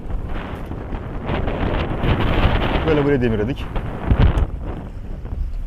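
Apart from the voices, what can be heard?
strong wind at anchor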